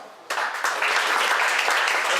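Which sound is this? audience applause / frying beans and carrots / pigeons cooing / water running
audience applause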